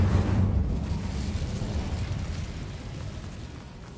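A whooshing burst of the Incendio fire spell in Hogwarts Mystery, a roaring rush that swells at once and then slowly fades into a steady hiss, with no voices.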